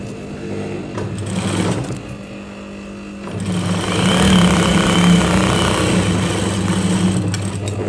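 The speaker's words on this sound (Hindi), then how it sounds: "अब इसके अपोजिट साइड पर भी सीधी सिलाई लगा लेते हैं" A sewing machine runs a straight seam on salwar fabric. A brief motor whir is followed by a pause, then a steady, loud, buzzing stitching run that continues to the end.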